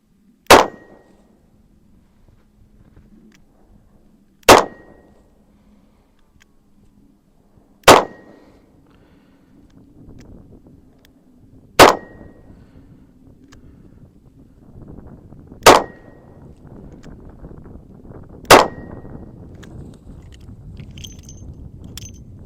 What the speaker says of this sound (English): let's go ahead and give the Colt another shot